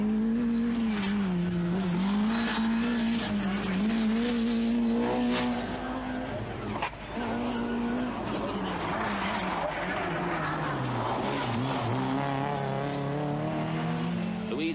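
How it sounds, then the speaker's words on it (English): A Vauxhall Astra GTE rally car races through a stage of the 1988 British Open Rally Championship, its engine droning and shifting pitch continuously under commentary. "Malcolm Wilson once again led the GM Dealer Sport Challenge in his Astra GTE and looked in good form"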